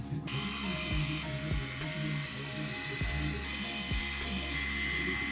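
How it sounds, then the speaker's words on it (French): An electric razor buzzes steadily and close up while someone shaves, its motor tone wavering and dipping rhythmically as it is pressed and moved across the face. "Je vais me raser pour ma rentrée, ça sera quand même mieux."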